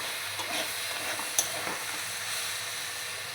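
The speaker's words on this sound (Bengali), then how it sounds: "তো আমার ভাজাটা এবার আমি ঢাকনা দিয়ে দেবো, কারণ ভাজাটা একটু ভালো হবে" Food frying in a pan gives off a continuous close sizzle with light stirring noises and one brief sharp clink, steady in level and free of speech.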